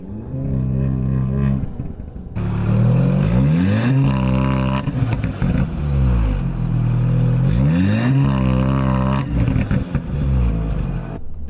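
An Audi A3/S3/RS3 engine revs hard on launch control, repeatedly climbing to a held 4,000 RPM then dropping back, loud and close, with rattling between the surges.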